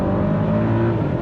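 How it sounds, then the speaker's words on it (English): A Mercedes-AMG GLE 63 S V8 SUV accelerating, a steady loud engine drone heard from inside with a nine-speed gearbox, continuous over a short stretch without clear separate exhaust pops. "The sound this thing makes, and the cracks and the pops from the exhaust system."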